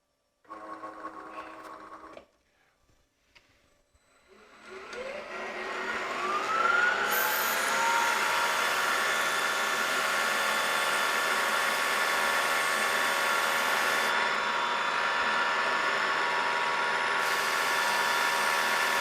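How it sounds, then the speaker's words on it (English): A steady, loud machining drone with a rising tonal whine as a CNC spindle spins up, then continuous noise of peck drilling metal with faint high shifts. "Once again, peck drilling,"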